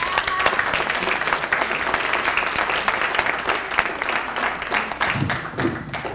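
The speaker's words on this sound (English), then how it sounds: "give a big round of applause for all of our poets" Steady, dense applause and clapping from an audience at a school poetry slam, sustained and loud throughout with no break.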